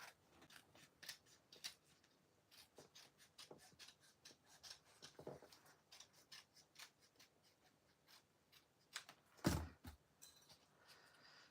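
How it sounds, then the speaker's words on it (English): Scissors snip off a small bit of excess craft material for a Christmas table decoration, a quiet run of short, crisp cuts and rustles close by, with one louder clack near the end and no talking. "I'm just going to cut this wee bit excess."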